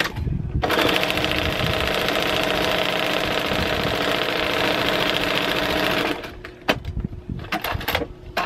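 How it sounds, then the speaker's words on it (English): A sewing machine runs a continuous quarter-inch quilt seam, a fast steady mechanical whir lasting about six seconds, then stopping into quieter handling noises and a few clicks. "And then I am stitching 1/4 inch, and I will do that on both sides."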